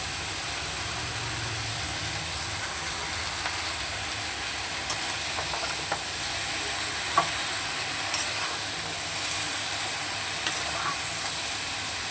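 Spinach tossed into a hot pan with eggplant and potato and stirred, giving a steady, fairly loud sizzle with occasional scraping knocks of the spatula.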